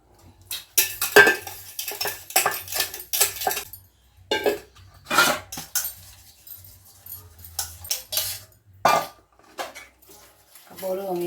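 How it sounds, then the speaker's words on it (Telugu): Bowls being scrubbed and washed by hand clink and clatter in irregular bursts of metallic knocks and scraping, with quiet pauses between, close by and fairly loud. "ఇప్పుడైతే నేనైతే బౌల్ అన్నీ తోమేస్తున్నా."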